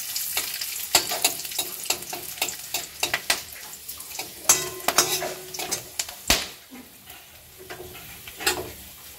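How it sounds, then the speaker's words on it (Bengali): Dry red chillies, whole garam masala and bay leaves spit and crackle in hot oil for a mutton curry, with dense sizzling, rapid popping and scattered metallic clinks of a spoon against the pot, close and busy. "তেলে দিয়ে দেবো শুকনো লঙ্কা,"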